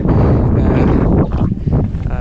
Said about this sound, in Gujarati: અત્યારે દરિયાનો ઠંડો પવન આવી રહ્યો છે